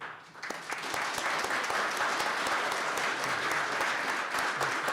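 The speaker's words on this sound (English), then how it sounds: "just give you a round of applause" Steady, loud applause from a crowd at a college graduation celebration, sustained without a break for several seconds, with no talking over it.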